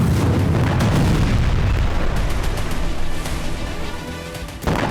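A large explosion at an Iranian military base gives a sustained, heavy roaring boom that fades over several seconds before a second sharp burst near the end, with no talk.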